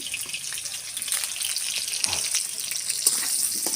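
Potatoes frying with chicken mince in a pan give off a steady, close crackling sizzle that runs throughout, with a few brief utensil scrapes and knocks.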